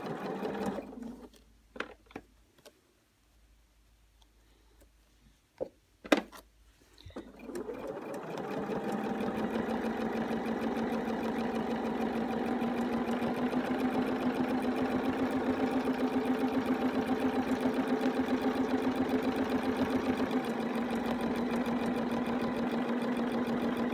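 A domestic sewing machine free-motion quilting through batting and fabric starts after a few quiet seconds of small handling clicks, then runs in a continuous, steady, close motor hum and rapid needle chatter.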